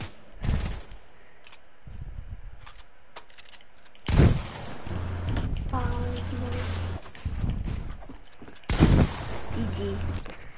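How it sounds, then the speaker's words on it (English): Bursts of automatic gunfire from a shooter video game rattle out in several rapid volleys, loud and close, with a player's voice talking in between. "What are you shooting me with?"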